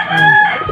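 A chicken identified as a hen gives one brief, loud, close call that lasts under a second.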